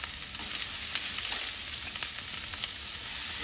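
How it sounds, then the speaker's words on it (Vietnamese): Shallots and vegetables stir-fry in hot oil, giving a steady, close crackling sizzle with light stirring throughout and no talk. "Dầu nóng thì cả nhà cho hết cái phần hành tím vào nè"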